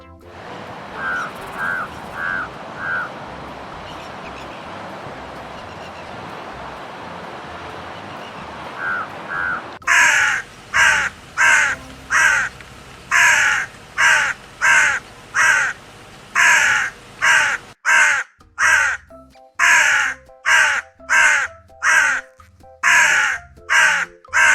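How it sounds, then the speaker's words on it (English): A crow caws in a loud, steady series of harsh calls through the second half, following quieter, fainter calls and outdoor ambience at the start; no speech. "Crow."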